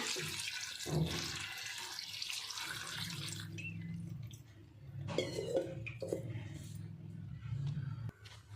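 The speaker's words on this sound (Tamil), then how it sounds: "தண்ணி சேர்த்துக்கலாங்க" Water runs and splashes into a pan of cabbage for poriyal for several seconds, with clattering and some soft background voices mixed in.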